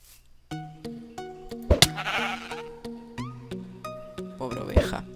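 Repeated sheep bleats from a Minecraft game, several distinct calls spread across the clip with short gaps, fairly close and clear, alongside blocky game interface clicks and pops.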